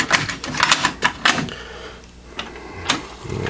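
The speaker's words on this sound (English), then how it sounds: "there's deck 2, and the tape would flip" Mechanical clicks and clunks of an Optimus SCT-49 dual cassette deck's auto reverse flipping the tape in deck 2: a quick cluster of sharp, close clacks, a brief lull, then a few more clicks.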